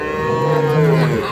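A dairy cow at the Ambari cattle market gives one loud, close, drawn-out moo lasting over a second.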